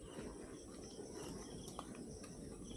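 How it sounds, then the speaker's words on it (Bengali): Crickets chirp steadily in a quiet forest near a canal used for bird watching, a dense continuous insect drone with faint high bird calls scattered through it, no voices. "ঝিঝি পোকাও ডাকছে।"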